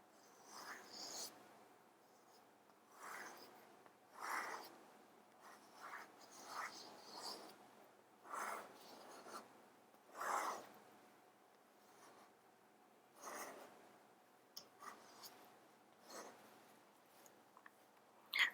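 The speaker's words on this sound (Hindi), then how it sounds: "मैं पहले इस वेद मंत्र को आपके समक्ष लिखता हूँ" Handwriting of a Vedic mantra, soft scratchy pen strokes in short separate bursts with quiet gaps between them, close and faint with no speech.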